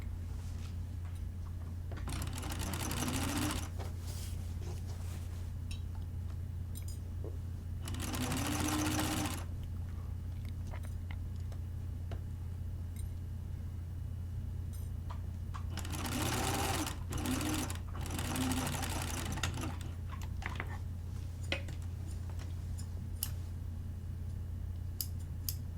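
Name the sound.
sewing machine stitching a blouse collar seam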